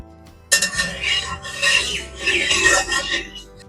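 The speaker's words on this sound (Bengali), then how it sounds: "কড়াই গরম হয়ে গেছে, এবার তেল দিয়ে দেবো।" Oil poured into a hot kadai for village-style Bengali prawn cooking sets off a sudden, close sizzle about half a second in that keeps crackling steadily to the end, with no talking.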